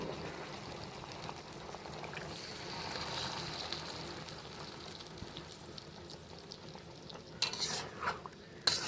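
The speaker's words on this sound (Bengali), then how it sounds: "মাংসটাকে আমরা ভালো করে কষিয়ে নেব।" Marinated chicken with its masala is stir-fried in a pan, a quiet hissing sizzle under soft scraping strokes, then a louder clatter of the spoon near the end.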